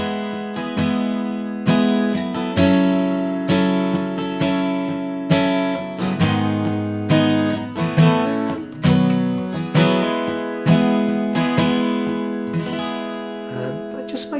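Acoustic guitar plays a strummed chord sequence with two hammer-ons, from a song, as a steady rhythmic pattern of close, bright chord attacks with no talking.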